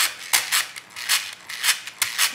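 A Batman Whirly Bat toy spins repeatedly by hand, making bursts of dry rasping, clicking whirs in an uneven rhythm, close and alone without talk.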